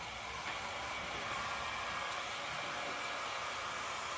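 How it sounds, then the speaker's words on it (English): Heat gun blowing on its high setting while opaque white-out window film is installed, a steady, even whooshing roar that holds without a break, moderately close and alone. "Now let's grab the heat gun,"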